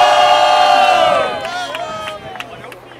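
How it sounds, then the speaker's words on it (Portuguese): Crowd at a rap battle semi-final roaring and shouting loudly, then fading into scattered whoops and chatter as the cheer dies down. "barulho para Reiniel! Barulho pra TNA"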